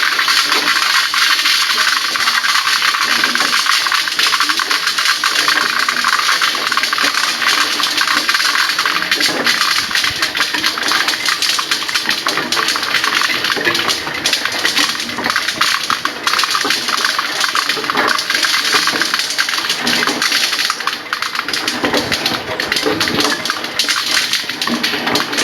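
A pepper threshing machine runs steadily, giving a continuous loud hissing, whirring drone with a faint rattle of peppercorns throughout, no talk over it.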